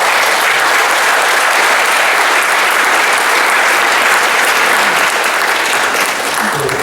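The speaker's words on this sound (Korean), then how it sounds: "다시 한번 큰 박수 주십시오" An audience at a stage performance event claps loudly and steadily throughout, a thick sustained roar of applause with no talk.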